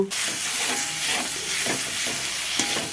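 Cumin powder and green chili fry in oil in a pan, giving a steady, close hiss that runs unbroken throughout with no talking.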